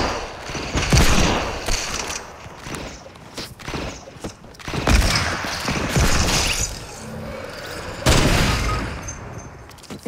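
Automatic machine-gun fire in a video game match on a no-scope map crackles in repeated loud bursts separated by short pauses, with mechanical clatter between volleys.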